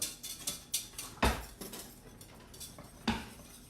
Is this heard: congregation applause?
no